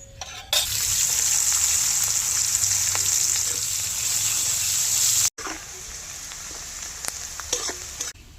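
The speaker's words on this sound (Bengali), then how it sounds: "গোটা জিরে গোটা গরম মশলা ফোড়ন দেওয়া তেলে এবার পেঁয়াজ কুচি দিয়ে দেবো" Chopped onion sizzles loudly in oil tempered with bay leaf, whole cumin and whole garam masala, a bright, steady frying hiss that breaks off briefly midway and resumes with a few stirring scrapes.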